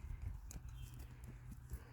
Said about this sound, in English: we got a bunch of horses around us